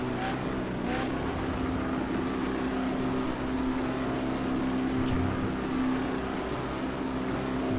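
A continuous V8 Supercar race car engine drone in a video game, holding a steady pitch throughout, with a constant mechanical hum and no voices.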